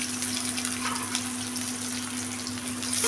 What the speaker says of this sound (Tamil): எண்ணெய் காஞ்சோன்னா ஒரே ஒரு பெரிய வெங்காயம் போடுறேங்க